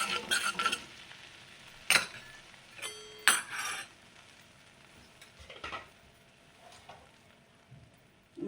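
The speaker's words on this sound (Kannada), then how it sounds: "ಫ್ರೈ ಮಾಡ್ಕೊಬೇಕು" Cumin seeds and kasuri methi frying in a pan for paneer kurma, with a quiet sizzle broken by several sharp clinks and scrapes of a spoon stirring against the metal, close and intermittent, no talk.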